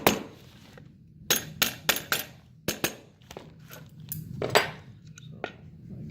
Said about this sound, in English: I'm going to hammer it down just a tiny bit